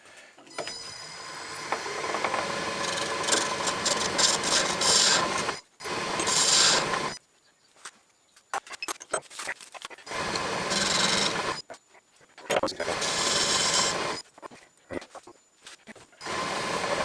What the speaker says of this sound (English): Time to turn the piston down.